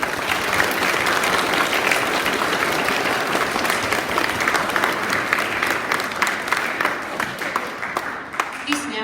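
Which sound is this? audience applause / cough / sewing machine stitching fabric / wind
audience applause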